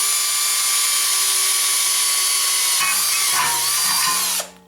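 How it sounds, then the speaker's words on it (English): A Bosch DDB181 compact 18V cordless drill whines at a steady high pitch on its lowest speed setting, then bites through metal with a grinding shift before spinning down abruptly. "all of these holes I'm going to drill on speed setting number 1"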